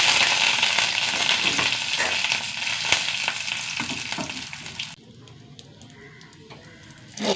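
Curry leaves and three dried red chilies sizzle in hot oil with fenugreek, a loud, dense crackling frying hiss with a few stirring scrapes that drops to a softer sizzle partway through.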